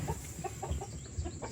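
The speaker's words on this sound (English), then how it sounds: "Chickens just chilling out." Backyard chickens clucking in short repeated bursts, close and moderately loud, with no talk over them.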